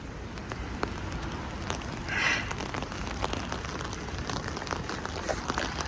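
Steady rain pours outdoors in an even hiss with scattered drops and a brief louder patter near the middle, fairly close and continuous with no talk.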